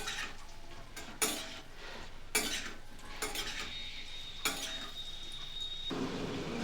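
Fried potatoes tossed with five-spice in a pan over a high flame, quiet background sizzle broken by several sharp scrapes and knocks of a spoon against the pan, with no voices.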